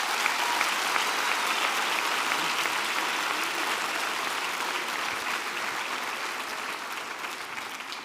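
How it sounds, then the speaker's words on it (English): Sustained applause from a large university graduation crowd, dense and even throughout, slowly easing in loudness. "Can we give them a round of applause?"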